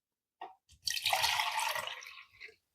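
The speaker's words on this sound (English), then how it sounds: "I'm just going to pour this water in." Water is poured into the reservoir of a Tastyle mini single-serve coffee maker, a short splashing pour of about one and a half seconds after a few small drips, ending with a final trickle.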